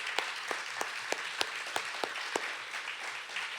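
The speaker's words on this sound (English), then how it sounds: "I just want to give a big round of applause and say thank you so much to Michael" A small audience at an Earth Day weekend panel applauds quietly, with scattered individual claps popping out over a soft, steady patter.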